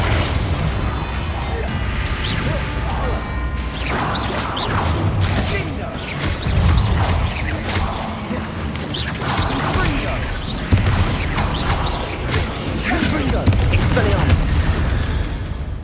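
Bombarda and Confringo spell blasts in Hogwarts Legacy, a busy string of booming bursts and crashing impacts layered with combat clatter, loud and constant, with a voice calling out over the action.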